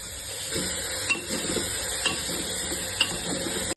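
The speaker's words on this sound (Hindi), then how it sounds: "अब डालेंगे प्याज। इसको पकाना है करीबन सुनहरा ब्राउन रंग होने तक।" Onions sizzle and crackle steadily in hot oil, with a few soft scraping stirs in the pan, close up and without any talking.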